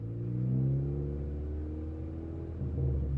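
A manual-transmission car pulls hard in third gear, its engine drone steady and fairly close as the revs climb slowly, with a low rumble throughout and no talk.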